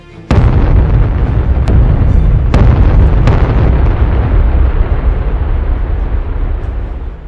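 FAB-250 UMPK glide bombs striking a defensive position: a loud explosion with a heavy rumbling roar, followed by several sharp successive blasts about a second apart, all close and dominant.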